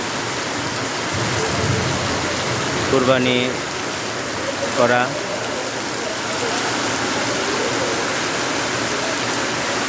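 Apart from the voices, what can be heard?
heavy rain falling on a Rohingya camp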